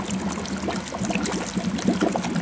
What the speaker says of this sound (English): I'll dump it in some water, the output tube into some water so you can see it